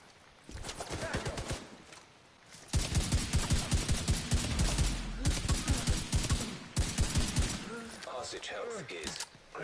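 SIG 716 rifle fire in The Division 2 video game, with rapid bursts of loud, sharp gunshots in quick runs that pause briefly between volleys, with some voices in the background.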